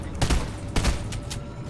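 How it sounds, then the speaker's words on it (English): Gunfire in a Fortnite match comes in a few short, sharp bursts, moderately loud with brief gaps between volleys, over a faint background hum. "Someone's shooting behind me"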